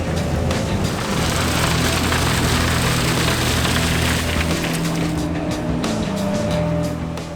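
A Ropa Tiger 5 three-axle beet harvester with a 626 horsepower Mercedes-Benz engine runs loud and close, a dense rumbling, rattling roar of machinery and crop handling that holds steady throughout.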